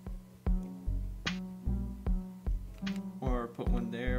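Minecraft note block music with piano-like plucked tones, a short looping tune of evenly spaced notes with layered chords building up toward the end, played alone and fairly loud.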